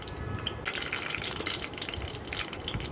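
Whole garam masala spices fry in hot mustard oil for Bangladeshi beef tehari, a steady close hiss and crackle with no voices.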